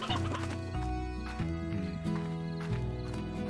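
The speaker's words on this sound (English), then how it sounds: "These are the normal chickens over here." Chickens in the video game Slime Rancher cluck in short repeated bursts over a steady synthetic game soundtrack, the calls close and clear with no talk over them.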